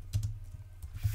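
Short burst of typing on a computer keyboard while entering a level name in Revit 2024, a few close, crisp key clicks in quick succession.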